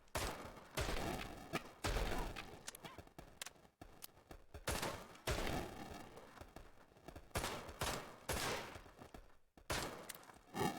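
Repeated loud gunfire and heavy thuds from a video game, Ride to Hell: Retribution, come in dense bursts with brief gaps throughout, close and dominant.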